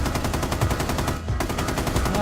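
Rapid automatic gunfire from the video game Rainbow Six Siege rattles loudly and continuously, with one brief break near the middle, and no voice over it.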